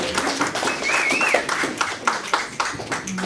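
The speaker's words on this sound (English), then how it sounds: "Let's just give the worship team a big clap." A church congregation clapping for the worship team, scattered hand claps of moderate loudness with a faint musical tone drifting in the background.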